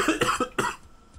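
A gamer coughs during a Factorio play session, a quick cluster of three or four sharp, close coughs in rapid succession, then fading into quiet.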